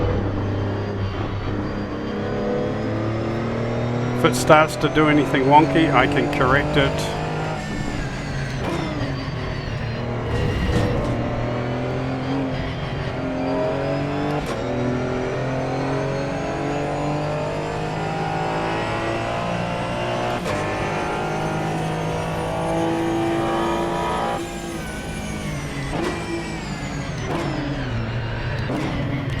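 A race car engine in the video game Assetto Corsa EVO, loud and sustained with rising and falling revs and gear shifts, a brief rattling burst near the start, while someone talks over it.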